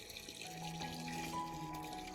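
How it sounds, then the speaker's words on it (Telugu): Tap water runs steadily into a sink as raw mangoes are washed for pickle. It makes a faint, continuous rush with small splashes and no voices. "ఇప్పుడు ఈ మ్యాంగోస్ అన్ని ఫస్ట్ అయితే వాష్ చేసేస్తున్నాను."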